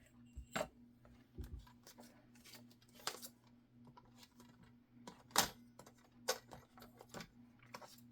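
Paper or cardstock being trimmed down for a beginner's flip-up craft with pockets, heard as a series of short, crisp snips and taps spaced irregularly, fairly close and quiet, with no talking.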